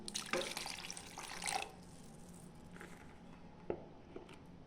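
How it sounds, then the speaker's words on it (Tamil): Water splashes and pours into chicken curry for a moment, then a few scattered drips and small splashes follow in a quiet, close setting. "இன்னும் கொஞ்சம் கூட தண்ணி சேர்த்துக்கலாம்."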